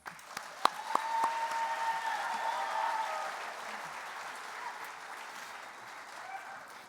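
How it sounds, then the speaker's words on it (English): An audience at the 89th Kansas FFA Convention applauds this year's state degree recipients: a steady wash of many hands clapping that holds at moderate level, then thins slightly toward the end, with a few sharper claps near the start. "Let's show our appreciation with a final round of applause for this year's state degree recipients"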